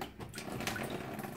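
Water drains out of a Potterton 28HE combi boiler during a diverter valve replacement, a close, faint, uneven trickle and splash like a tap running into a basin, lasting just over a second.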